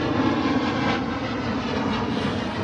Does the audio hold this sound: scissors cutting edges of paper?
no